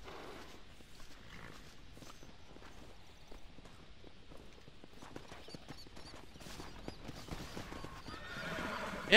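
A horse in Red Dead Redemption whinnies and snorts while its hooves clip-clop steadily through desert ground, fairly faint and close, with a louder burst at the very end.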